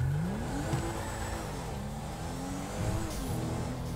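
Nissan Skyline R34 in GTA5 accelerating hard from a standstill to 100 km/h, a steady loud engine drone climbing in pitch through repeated gear changes, with no talking over it.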